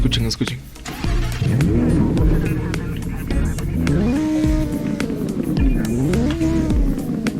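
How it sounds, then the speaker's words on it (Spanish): Audi R8 engine heard from the rear, a steady loud idle with rising and falling rev blips, pitch swooping up and down several times over continuous low rumble. "es muy bonito el sonido que tiene este coche"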